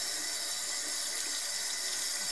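Water runs from a tap while CLI 42 ink cartridges are flushed, a steady, loud rushing stream without pause.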